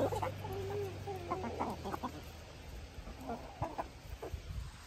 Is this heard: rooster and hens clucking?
yes